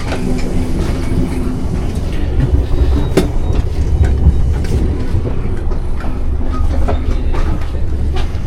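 A Swiss train runs on rails on a rainy day between Lucerne and Bern, a loud, steady rumble from inside the carriage with rhythmic wheel clacks and occasional sharp clicks.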